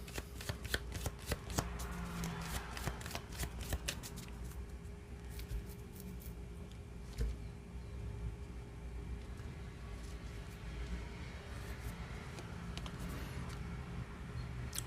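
A Lenormand (Cigano) card deck is shuffled by hand in repeated riffles and flicks, crisp papery snaps near and clear at first, then a softer sustained shuffling with no talk.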